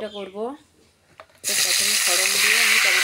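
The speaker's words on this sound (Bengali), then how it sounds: "তো দেখো প্রথমে তেলে 5 ফোড়ন দিয়ে টমেটোগুলো দিয়ে দিলাম, নাড়াচাড়া করে" Tomatoes drop into hot oil with five-spice seeds and begin frying, a loud steady sizzle that starts abruptly and fills the rest of the clip after a brief stretch of speech-like voice at the start.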